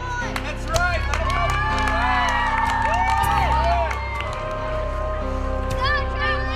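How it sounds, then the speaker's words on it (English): Children in a noisy indoor climbing setting cheer, whoop and clap for teammates on the wall, a steady crowd of young voices with occasional shouts rising over it. "Cheer them on!"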